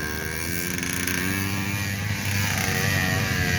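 A new trial motorcycle's engine runs with a steady, loud drone and a low harmonic hum, its pitch shifting slightly as it carries on without pause.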